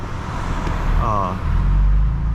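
BMW M4 CS sports car, close and loud, with its exhaust burbling and letting out sharp pops over a steady engine drone, while someone talks over it.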